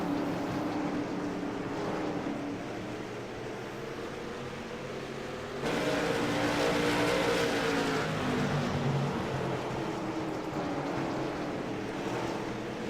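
Race cars roar steadily around an oval track, a broad engine drone with a louder surge partway through as the pack passes, heard from a distance with no talk.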